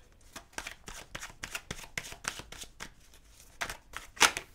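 A deck of tarot cards is shuffled for a relationship reading: a quick series of close, crisp riffling flicks and soft slaps in an irregular rhythm, ending with a sharper snap, with no talking.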